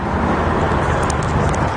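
A parrot imitates a car starting with a harsh, rasping burst of engine-like noise. It is close and loud, continuous for under two seconds, with no speech over it.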